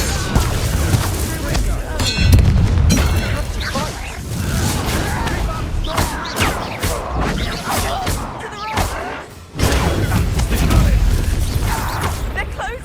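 Bombarda spell explosions and combat in Hogwarts Legacy on PS5, heavy thumps and booms mixed with clashing effects across a busy fight, with character voices shouting over the action.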